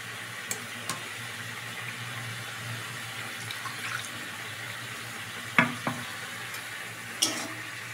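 A spoon stirring fish curry with turmeric in a pan of hot white oil for a bele fish tel jhol, a soft continuous sizzle with a few sharp clinks of utensil against the pan.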